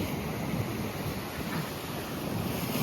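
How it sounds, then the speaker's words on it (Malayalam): Ocean waves wash continuously at Payyambalam beach in Kannur as the tide rises, a steady faint surf roar mixed with wind buffeting the microphone. "പിന്നെ അത്യാവശ്യം തിര കൂടി വരുന്നുണ്ട്, വേലിയേറ്റത്തിന് സമയമായി തുടങ്ങിയെന്ന് തോന്നുന്നു"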